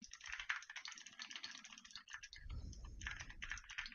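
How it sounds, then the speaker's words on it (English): Rapid, crisp keystrokes on a clicky optical-switch keyboard clatter in bursts with brief pauses between them, close and clicky, with a faint low rumble partway through. "here we'll do some typing so you can hear how that sounds with this headset"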